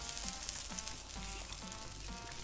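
Frying pan sizzling in the VR game Dungeon Brewmaster VR, a soft hissing crackle with a faint repeating pulse beneath it, quiet and continuous with no talking.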